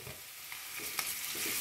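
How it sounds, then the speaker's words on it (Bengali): Garlic and ginger sizzle and fry in a pan with oil after cumin and bay leaf, a soft, steady crackling hiss with a few light stirring clicks. "রসুন আর আদাটা দিয়ে দেবো।"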